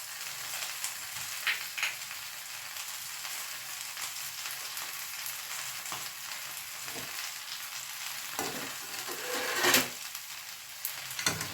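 Chicken fries and is stirred in a pan with masala tomato sauce: a steady, moderately quiet sizzle runs throughout, with occasional scraping clatters of a spoon and a sharper burst of sizzle near the end.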